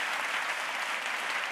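An audience applauding a speaker at the end of a technology talk, with steady, dense clapping filling the room and holding throughout.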